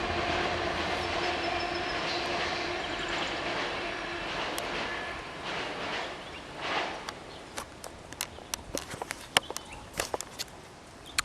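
A train passing outdoors, a steady broad rumble and roar at some distance that fades, followed by sharp clanks and clicks near the end, with no talking.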